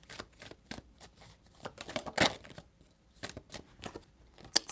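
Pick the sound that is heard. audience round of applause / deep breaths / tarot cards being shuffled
tarot cards being shuffled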